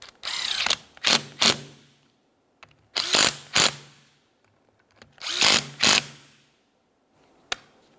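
Three separate bursts of quick ratcheting clicks come close by as the mounting bolts of a wiper motor on a 1994-2002 Dodge Ram 2500 are tightened, each burst a few rapid strokes with short pauses between.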